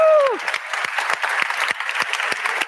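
An audience at a university entrepreneur club's final event breaks into steady, lively clapping after a team-vote result is announced, opening with a brief sliding whoop before the applause carries on evenly.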